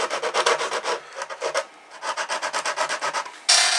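Rhythmic rasping strokes of sandpaper scraping old hide glue off the wood of a Regal parlor guitar during restoration, close and repetitive, with a brief pause midway and a louder burst at the end.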